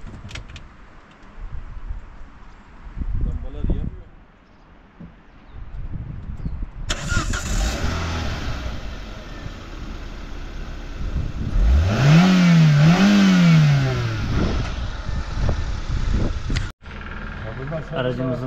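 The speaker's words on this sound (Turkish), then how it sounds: "Bir de aracı çalıştıralım değil mi?" A Volvo S40 car engine cranks and catches, then settles into a running idle and is revved up and down a couple of times, loud and close, with voices talking over it and a dip as the sound cuts off near the end.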